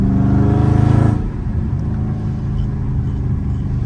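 A Dodge Challenger Scat Pack revving in the rain, a loud deep engine roar that holds for about a second then drops to a lower idling rumble, close by.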